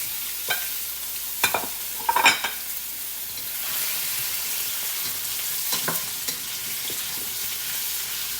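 Cauliflower and potatoes frying in a little oil, a constant soft sizzle with a few clattering knocks of a utensil stirring the pan, close and without talk.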